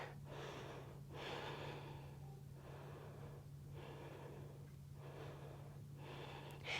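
Steady, slow breathing during a yoga side plank, with deep inhales and exhales in a regular rhythm, close and audible over a constant low hum, with no talking.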